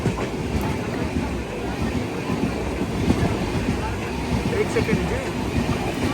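Vijayawada–Lingampalli Intercity Express running alongside as it is overtaken: a steady, dense rumble of rolling coaches with wind roar, and a brief spoken voice over the top.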